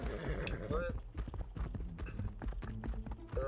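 Horse galloping in the survival game Rust Mobile, rapid repeated hoofbeats with a short whinny at the start, close and steady while players talk over it.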